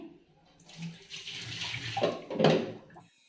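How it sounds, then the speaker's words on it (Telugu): Water poured out of a nonstick pan while seasoning it, a splashing rush that builds and peaks briefly before cutting off. "వాటర్ని పడిపోసేయాలి."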